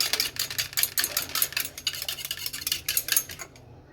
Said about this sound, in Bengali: এখানে আমি আমার জন্য একটু দইয়ের শরবত বানিয়ে নিচ্ছি